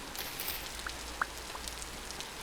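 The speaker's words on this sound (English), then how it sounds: "So the rain is a little bit annoying." Rain patters down in Vintage Story as a soft steady hiss with a few distinct droplet taps, fairly quiet and even throughout.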